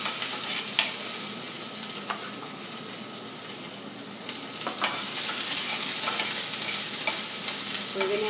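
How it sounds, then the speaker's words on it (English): Chopped onion and cooked nopales sauté in about a tablespoon of oil in a pan, giving a steady bright sizzle with occasional stirring scrapes. "we're going to add some chopped up onion to our pan that has about a tablespoon of oil in it"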